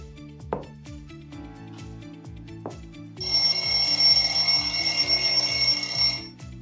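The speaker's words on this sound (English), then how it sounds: "I will set a timer for 10 seconds" A classroom countdown timer on a smart-board ticks steadily, then a bright electronic alarm rings for about three seconds when time runs out. It is fairly loud and close, with no talking over it.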